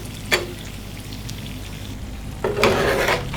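Egg martabak frying in hot oil while oil is spooned over its top, a continuous sizzle with two louder surges of crackling splatter, close and fairly loud.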